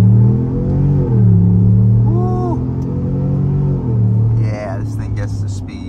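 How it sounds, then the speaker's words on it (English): A 2024 Chevy Tahoe RST Performance Edition on Pursuit tires in four-wheel drive auto pulls away hard from a stop, its engine droning loud and rising in pitch through gear shifts, heard from inside the cabin. "Let's try out an acceleration off the line, try out these Pursuit tires in four-wheel drive auto mode on the S."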